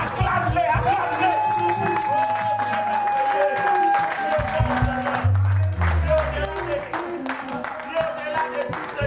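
A church congregation claps and cheers loudly through a worship moment, with sustained applause and shouts over music, and a voice speaks above the crowd.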